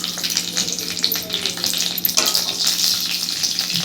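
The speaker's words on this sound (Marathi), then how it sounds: "पहिल्यांदा आपण आता थोडंसं सुकं खोबरं भाजून घेऊ आणि हिरवी मिरची, या 2 हिरव्या मिरच्या सुद्धा आपण भाजून घेऊ" Dry coconut and two green chilies roast in oil in a kadhai on low-medium heat, making a loud, close, continuous crackling sizzle with no voices.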